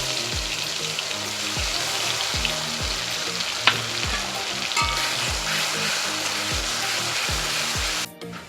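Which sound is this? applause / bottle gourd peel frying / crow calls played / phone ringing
bottle gourd peel frying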